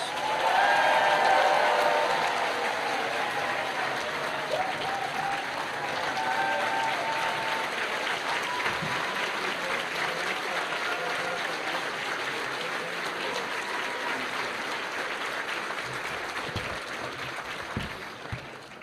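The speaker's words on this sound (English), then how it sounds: "audience, please give these 20 outstanding educators one more round of applause." An audience at a Delaware Teacher of the Year ceremony applauds twenty educators, sustained dense clapping from a large crowd in a hall, loud at first and holding steady for nearly twenty seconds.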